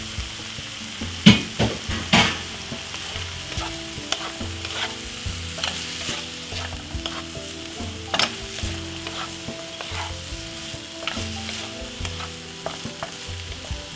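Brussels sprouts stir-fry in butter in a pan, a steady sizzle broken by repeated scraping stirs and a few sharper knocks of a utensil against the pan, close and unvoiced.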